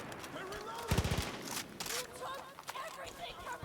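Gunfire in the video game Far Cry New Dawn: a burst of rapid shots rings out near the start, followed by scattered further shots and in-game commotion, with a voice talking over it.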